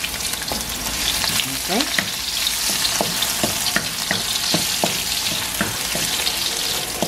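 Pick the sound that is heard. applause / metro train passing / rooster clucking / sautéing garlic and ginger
sautéing garlic and ginger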